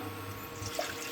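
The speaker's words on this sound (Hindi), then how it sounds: "इसमें पानी और दे रहे हैं कि अच्छी तरह इसमें बॉयल हो जाए" Water pours steadily into a pan on an induction cooktop while cauliflower and potato sabzi is being made, a faint, continuous splashing wash with no voices.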